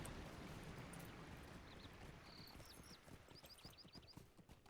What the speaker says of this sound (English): I'm riding the steed of Imladris